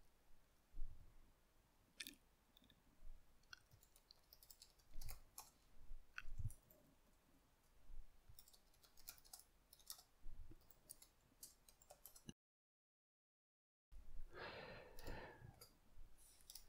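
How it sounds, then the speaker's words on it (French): Typing on a computer keyboard while working in LibreOffice Impress: faint, scattered key clicks come in irregular bursts, quiet and close, with a brief silent gap near the end. "je vais pouvoir commencer à taper"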